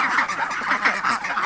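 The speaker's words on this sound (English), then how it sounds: "counting ducks" A flock of farm ducks quacking steadily and loudly at close range, overlapping calls in a continuous chatter with no one talking.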